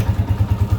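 A Honda TMX155 motorcycle engine running after an overhaul, a close, loud, steady low thumping idle with an even beat of about eight pulses per second.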